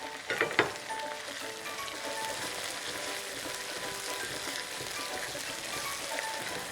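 Green chilies sizzle steadily as they fry in a masala for egg fry daal, a dense, even crackle with a brief clatter of stirring near the start.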